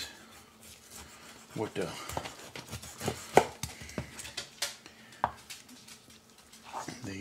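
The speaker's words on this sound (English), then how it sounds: "So let's see if we can cut these ribs here" Knife slicing through cooked baby back ribs on a cutting board, a series of scattered thuds, scrapes and knocks against the board, close-up, with someone talking over the cutting.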